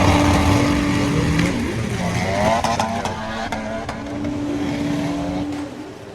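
VW Golf R and VW Caddy drag racing at Santa Pod, loud engines roaring and revving up the strip with a continuous racing drone, no one talking.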